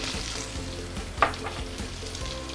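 Garlic, carrot and kailan sauté in a hot pan for a fishhead tofu stew, a steady broadband sizzle with soft stirring scrapes and one sharp utensil clink near the middle, no voices.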